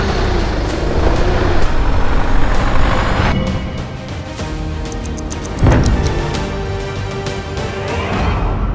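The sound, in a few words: donated vehicle being driven on the road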